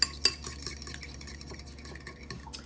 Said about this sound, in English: Whisk, whisk, whisk.